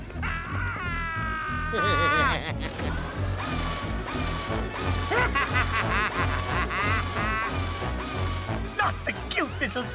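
A cartoon duck quacks in a loud, chattering din, with rapid nasal squawks layered over mechanical, ratcheting clatter and busy music, continuous and close throughout.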